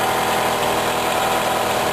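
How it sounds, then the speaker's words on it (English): A Mazda 6 car engine, just started, idles in a steady mid-pitched hum with a faint rhythmic pulse and close mechanical vibration. No one speaks. "as soon as you start the engine"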